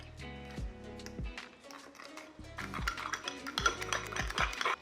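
A whisk or spoon beats pancake batter of egg and flour in a bowl with quick, irregular scraping clinks over steady background music.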